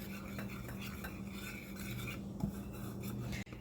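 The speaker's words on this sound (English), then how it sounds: "And I'm going to whisk this together." A whisk scrapes steadily around a dish, blending flour with salt, pepper and onion powder for dredging pork chops, close and quiet with continuous rhythmic scratching and a faint low hum beneath.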